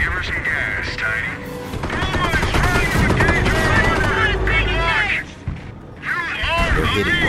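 Heavy gunfire in Company of Heroes as an attack hits a forward emplacement, sustained automatic bursts with crashes and booms layered together, loud and dense, while a voice speaks over the battle.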